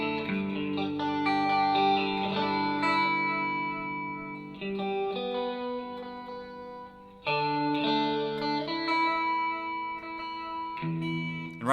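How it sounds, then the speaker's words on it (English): Electric guitar chords and picked notes played through a Pitch Pirate pedal with the vibrato set to a low depth on a sine wave, giving a shimmering, chorus-like wobble. Sustained phrases ring out, with two brief pauses between them. "And at a lower depth, the vibrato is usually just going to sound like a chorus."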